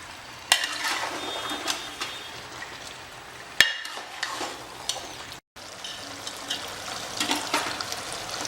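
Mutton pieces tumbled with masala in a hot pan sizzle steadily while a spoon scrapes and stirs, with a few sharp clinks against the metal and one brief dropout in the middle.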